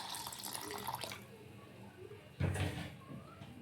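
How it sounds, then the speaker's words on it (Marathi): Water is poured into a kitchen mixer grinder jar holding soaked rice for kurdai batter, giving a short splashing gush midway against a soft, noisy room background. "पाणी ॲड करायचं याच्यामध्ये"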